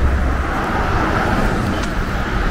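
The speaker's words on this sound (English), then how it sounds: "All right, I guess y'all seen enough of the traffic." Street traffic on cold city streets in Kingsport, Tennessee, a continuous low roar of cars passing close by, loud and broadband with rumbling engines and tire noise and no talk.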